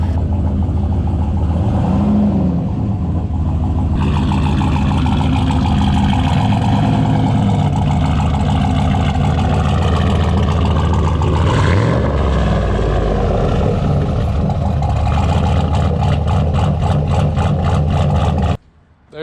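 A lifted Chevrolet S10 pickup with a turbo engine and Caltracs traction bars idles with a loud, choppy, lumpy rhythm close by, steady throughout before cutting off abruptly near the end.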